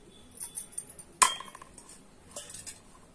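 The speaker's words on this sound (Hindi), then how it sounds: "अब इसमें डालेंगे लहसुन" Garlic cloves dropped into a pan of oil while making a garlic, ginger and chilli pickle, giving a sharp metallic clink followed by faint scattered clatter, close and without talk.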